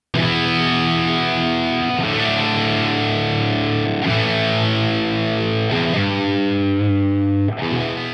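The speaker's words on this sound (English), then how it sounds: "We're here to check out the warmaudio oddbox and see what it sounds like" An electric guitar through a Warm Audio ODD Box V1 hard-clipping overdrive pedal rings out heavily distorted in sustained, crunchy chords, changing every couple of seconds, loud and thick throughout.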